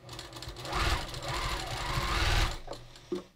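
A sewing machine stitches around the back neckline of a knit cowl, running in a steady, close whirr for about two and a half seconds and then stopping, followed by a brief clunk.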